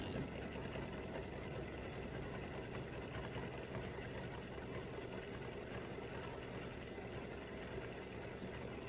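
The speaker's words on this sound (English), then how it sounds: "it's stitching that baseline down again, and that is a little bit better" An embroidery machine stitching the baseline of a baseball design runs with a continuous, fairly faint, even mechanical whir and rapid needle chatter throughout, with no pauses.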